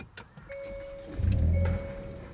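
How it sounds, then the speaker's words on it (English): A Hyundai i30N hatchback starts up: a short crank, then a deep engine flare that swells and settles toward idle, heard close from inside the car. "Let me just start the car and listen to this note"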